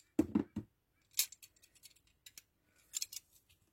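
Craft knife slicing off excess paper from envelopes, a few quick sharp scraping cuts followed by scattered light clicks and rustles at close range, no talking.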